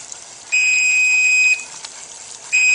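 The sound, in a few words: cooking timer beeping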